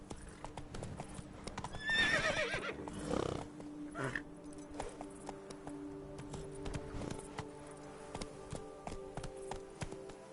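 Horse Roach in a video game gallops with rhythmic clip-clopping hooves and lets out a clear neigh near the start, followed by continued quieter trotting footfalls.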